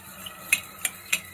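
A spoon stirs sugar into milk until it dissolves, giving three sharp metallic clinks against the vessel over a quiet background.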